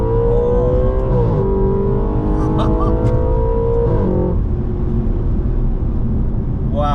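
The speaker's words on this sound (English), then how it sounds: "High revving NA engine." An Audi RS4 Avant wagon's high-revving, naturally aspirated V8 accelerates hard, its loud engine note climbing through the revs, dipping briefly, then steadying under a constant roar close to the car.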